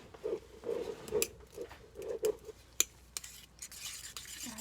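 A spoon stirs African black soap cream mixture in a bowl, making a steady rhythm of soft scraping strokes with a few sharp clinks against the container. It is close, fairly quiet and without talk.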